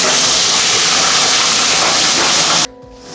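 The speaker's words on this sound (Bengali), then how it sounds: "তেলটা গরম হয়ে গেছে, এবার এই যে আগে থেকে নুন হলুদ মাখিয়ে রাখা ট্যাংরা মাছগুলো দিয়ে দেবো।" Salted, turmeric-coated tangra fish dropped into hot oil in a kadai, giving a loud, steady roaring sizzle close by that cuts off abruptly near the end.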